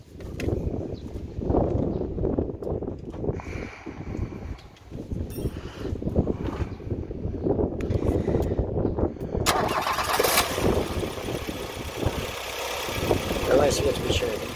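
A car engine cranks and catches during a charging-system check, then settles into a steady idle, loud and close, with a brighter rise after ten seconds and continuous broadband mechanical noise throughout.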